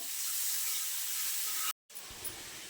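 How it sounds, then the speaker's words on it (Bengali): Onions frying in a pan for a dhaba-style egg masala, a steady bright sizzling hiss that holds loud, breaks off into a brief silence, then resumes slightly softer. "পেঁয়াজটা একটু লাল লাল করে ভেজে নেব"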